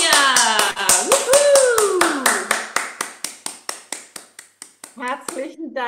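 Loud applause and rhythmic clapping from an event audience, steady at first and then thinning into slower individual claps near the end, heard under a woman's announcement.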